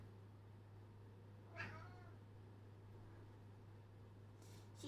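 A single short cat meow sounds once midway, faint against a steady low hum in a quiet room, with another faint sound near the end.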